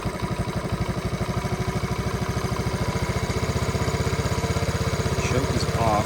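A 1981 Honda Z50 motorcycle engine idles with a dirty stock carburetor, a steady rapid low putter that keeps an even rhythm throughout, close by and continuous.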